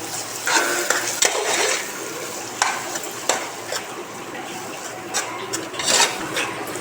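Steady sizzling of a ground paste frying in ghee, with occasional scraping stirs and light clinks of a spatula against the pan.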